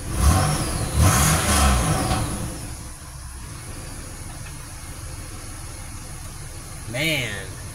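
A 2006 Pontiac Grand Prix with a freshly swapped engine runs nearby, a loud rev at the start settling to a steady idle, with a brief louder burst near the end.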